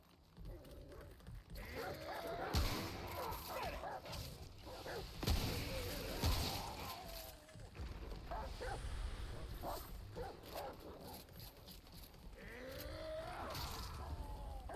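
Dog barks from the shooter game Remnant, several sharp yaps scattered across the stretch amid loud gunfire, impacts and busy combat noise, with a voice talking over parts of it.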